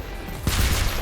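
A standard pistol fires in the retro shooter Selaco, a sudden punchy report about halfway through with a brief rumbling tail, loud and close, with no talking.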